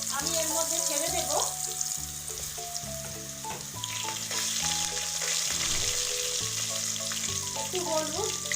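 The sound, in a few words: potatoes added to hot oil with bay leaf and cumin, sizzling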